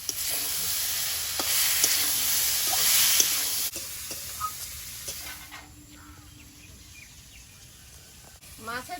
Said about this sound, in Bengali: পেঁয়াজ আর কাঁচা লঙ্কা এবার মাছের তেলটা দিয়ে দেবো